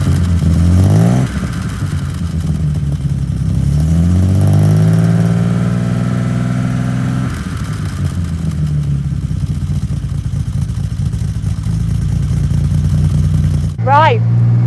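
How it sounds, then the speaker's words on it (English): Straight-six exhaust of a 1960s MGC sports car heard at the tailpipe, a loud, steady engine drone whose pitch swells and sags through several revs before a brief sharp burst near the end. "I want you to hear it from the tailpipe so you can really feel that straight six magic."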